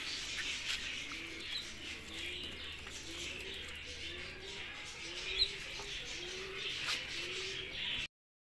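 Pigeons coo in a repeated series of low, rhythmic rolling calls, about one each second, heard close over a steady hiss of background noise, with no talk.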